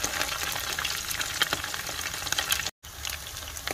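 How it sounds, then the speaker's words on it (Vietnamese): Dried fish frying in hot oil until golden, a steady dense crackle and sizzle that runs without pause, briefly cut by a short gap, with no talk over it. "Đó, chiên cho nó vàng"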